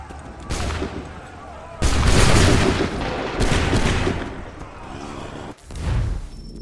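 Soldiers fire musket volleys in Assassin's Creed 3, with several loud, broad blasts spaced a second or two apart, each followed by a rolling tail, under background game sound.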